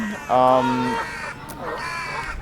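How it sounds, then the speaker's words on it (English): Harsh cawing calls from crows ring out nearby in London, a couple of loud caws over a background of outdoor noise and faint voices. "You have the birds making a lot of noise. I'm sure you can hear that in the background."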